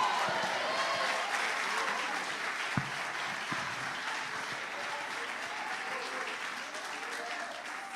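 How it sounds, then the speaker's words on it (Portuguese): A church congregation claps together in sustained applause throughout, a dense, even crowd sound in a reverberant room, with a couple of sharper knocks early on. "Se você crê, aplaude ao Senhor."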